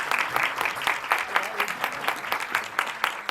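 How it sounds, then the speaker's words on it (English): An audience at a short film preview claps in sustained applause, a dense patter of many hands with rhythmic bursts, fairly close and lively, no clear speech over it. "And a long applause for Dum Biryani."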